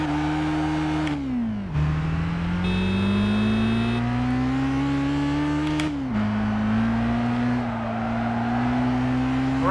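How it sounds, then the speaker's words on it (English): Race car engine in the video game Gran Turismo 5 revs high and hard, climbing through gears with sharp shift drops and rising pitch, loud and alone with no talk. "Pretty epic, high revving sounds, and it seems to handle quite nicely"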